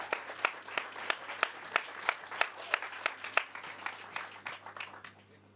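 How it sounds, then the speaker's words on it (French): Audience applause for acting students at an end-of-year acting school show, with distinct rhythmic claps standing out over a softer bed of clapping, gradually thinning and fading toward the end. "Je pense qu'on peut déjà les applaudir"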